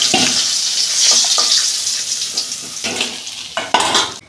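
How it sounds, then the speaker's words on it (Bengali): Fish bones fry in hot oil left over from frying fish, making a loud, continuous sizzle with spatula scrapes and clinks against the pan that grow sharper toward the end. "ওই তেলে আমি কাঁটাগুলো ভেজে নিচ্ছি আগে, তারপর সবজিগুলো ভাজবো"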